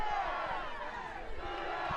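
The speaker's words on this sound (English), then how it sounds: "they have been chanting the Boomer Sooner chant" A large Oklahoma crowd at a college softball game chants together, a sustained dense roar of many voices filling the stadium at steady volume.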